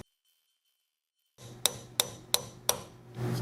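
A part is tapped into a Chevy Astro 4L60E-family transmission during an oil and filter change, with four sharp, evenly spaced metallic taps close up after a brief silence.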